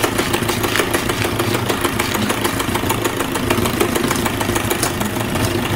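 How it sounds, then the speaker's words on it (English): Steady, loud motor whir of a mixer stirring milk on low speed, constant and unbroken throughout with no voices. "Meanwhile, we are going to stir our milk"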